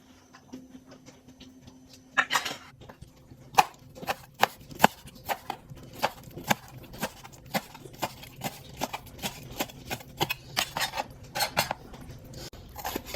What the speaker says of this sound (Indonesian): ini yang mau aku cincang terongnya, udah aku rebus setengah mateng